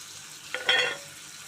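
Dried fish sizzling in a pan as a home curry is cooked, a brief, faint burst of frying that flares for about half a second and then fades back to quiet.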